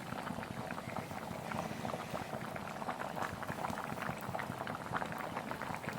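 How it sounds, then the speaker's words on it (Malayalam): Bilimbi prawn curry cooked in coconut milk bubbles steadily in a pan, a close, continuous simmering burble with dense popping and no talking. "മീൻ കറി ഇവിടെ നന്നായിട്ട് തിളച്ച് വരുന്നുണ്ട്."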